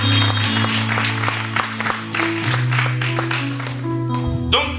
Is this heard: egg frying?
no